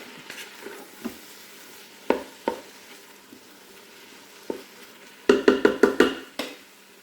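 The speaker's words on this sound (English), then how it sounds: "we're going to let those saute for about 1 minute" Andouille sausage sautéing in a Ninja Foodi gives soft sizzling under scattered taps and scrapes of stirring, ending in a quick flurry of clattering stirs.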